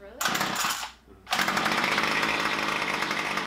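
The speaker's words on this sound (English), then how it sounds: "One sec, I gotta teach Chelsea how to use a weed whacker." A gas-powered weed whacker string trimmer roars loudly, drops out for about a second, then restarts and runs steadily at full volume.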